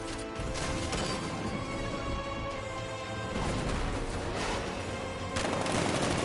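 Game tank fires a 60mm cannon in a Batman video game, heard as a continuous barrage of loud, dense blasts and crashing impacts without any talk.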